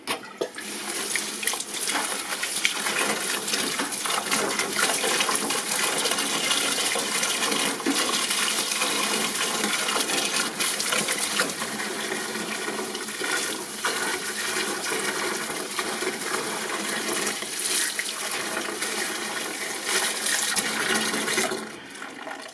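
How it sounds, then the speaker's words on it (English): Clean water runs steadily over air conditioner filters during a final rinse, a loud, continuous gushing splash lasting about twenty seconds before cutting off abruptly. "Then give them a final rinse off with clean water."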